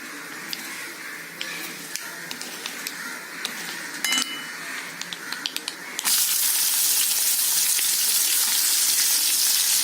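Dal fries in oil with green chilli, ginger and curry leaves; a few light utensil clinks give way to a sudden loud, steady sizzle close by.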